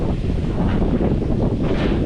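Strong wind buffets the microphone in a constant low rumble on a rural house roof, with faint gusty swells and no one speaking.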